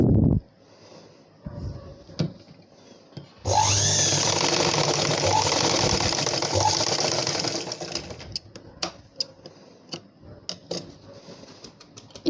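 An electric sewing machine runs steadily for several seconds stitching darts into a blouse, a close whirring hum bracketed by scattered clicks and handling of fabric.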